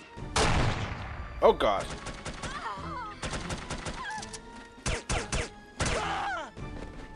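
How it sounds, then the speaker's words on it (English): Spear gun shots fired in the video game No One Lives Forever, heard as a few sharp, punchy bursts scattered among frequent talking voices. "Maybe we should try that other spear gun."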